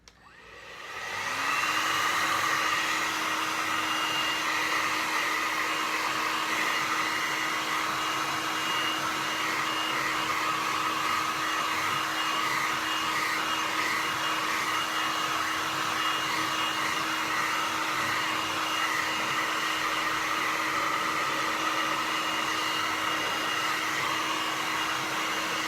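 A hair dryer blows steadily at close range while drying paint on a tropical fish painting, with a constant whirring roar and a faint steady hum, running without pause and with no talking.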